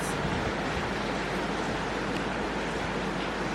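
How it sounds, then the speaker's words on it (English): Heavy rain pours down outdoors on an overcast day, a steady, dense, unbroken hiss that fills the whole stretch without any pause, close and fairly loud, with no talking over it. "It's pouring, cats and dogs."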